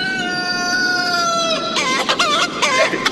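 A rooster crows in a long, drawn-out call, then breaks into a rapid run of loud clucking and squawks, close and clear with no talking over it.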